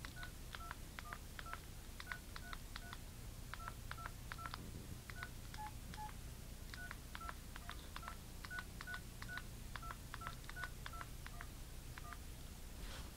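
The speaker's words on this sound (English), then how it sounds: "It's how to play Mary Had a Little Lamb on your phone." Phone keypad tones beep out Mary Had a Little Lamb as a rhythmic run of short dial-tone notes in small melodic groups, faint and with no talking.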